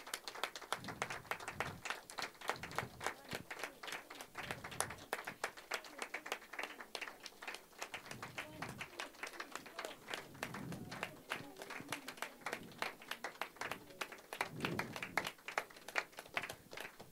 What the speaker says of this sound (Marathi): जोरदार टाळ्या चालू ठेवा लता दीदी येईपर्यंत